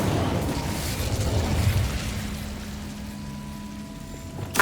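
Incendio fire spell cast in Hogwarts Legacy, a loud fiery burst that rushes and rumbles for about two seconds, then fades to a softer lingering hum with a faint click at the end.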